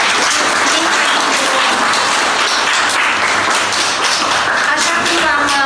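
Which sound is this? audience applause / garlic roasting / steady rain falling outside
audience applause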